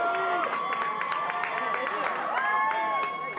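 A crowd outside a downtown Baltimore courthouse cheers and applauds as a freed man walks down the steps, with loud, excited voices whooping over scattered clapping throughout.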